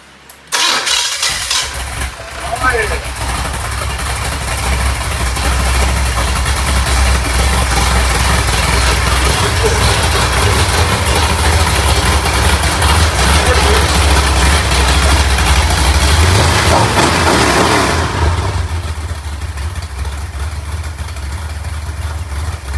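A big 427 engine cranks, fires up and runs with a loud, rough, throaty roar that swells as it revs, then drops to a lower idle near the end, with no talking over it.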